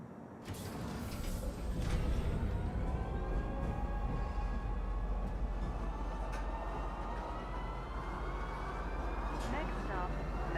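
Metro train in the Star Citizen video game rolling along its tracks, a steady loud rumble with rising whine tones and brief clanks; someone talks over it.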